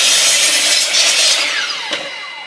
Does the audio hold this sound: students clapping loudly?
no